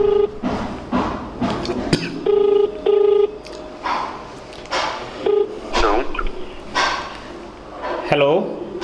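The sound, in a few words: phone call ringing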